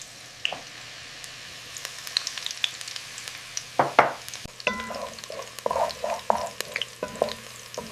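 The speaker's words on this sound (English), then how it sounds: "Frying the garlic until it's a little golden" Minced garlic fries in a splash of oil and is stirred with a utensil, giving a soft, close sizzle broken by scattered scraping and clicking stirring sounds.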